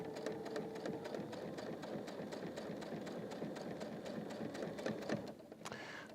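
A domestic sewing machine runs at speed stitching a chain quilt block, a steady rapid mechanical whir with fast needle clatter, fairly quiet, slowing and stopping near the end.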